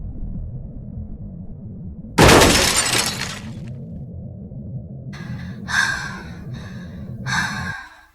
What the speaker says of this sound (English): a sharp crack shattered the silence. The floor gave way beneath her.